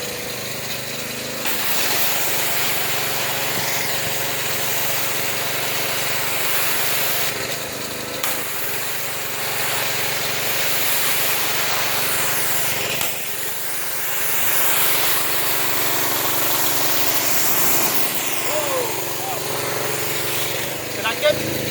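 A pressure washer rinses a vehicle during mobile auto detailing, giving a loud, continuous hissing spray that shifts slightly as the wand moves and runs through the whole stretch, with talk over it.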